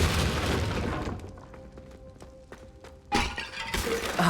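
The Bombarda spell lands in Hogwarts Legacy with a heavy boom and crashing debris, followed by scattered clatter and thuds as rubble settles, then another loud burst of noise.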